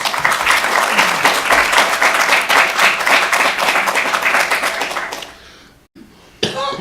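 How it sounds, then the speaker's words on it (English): An indoor audience at a school board candidates' night gives loud, dense applause that holds steady for about five seconds, then tapers off into a few scattered claps. "Please give them a round of applause."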